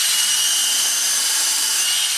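A steel bit grinds into a Massey Ferguson 35X rear axle bearing, a loud, steady, hissing high-pitched drilling noise that holds without a break from start to finish, with no low rumble beneath it.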